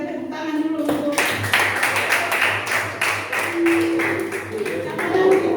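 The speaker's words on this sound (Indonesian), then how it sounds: "kita berikan tepuk tangan dulu untuk" A classroom of students claps for a fellow student, a burst of hand claps with scattered taps running throughout, while voices murmur underneath.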